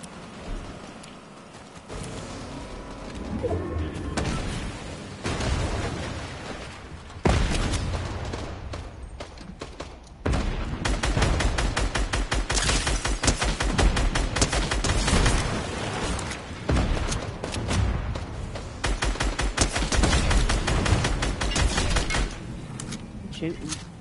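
Rapid bursts of video game gunfire crackle almost nonstop, with dense volleys and booming shots layered together, loud and close, while a player talks over the action.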